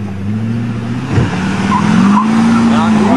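A Cadillac Escalade revs hard while spinning its tires up a dirt hill, a loud, close engine drone rising in pitch with rough tire scrabble and a brief voice under it.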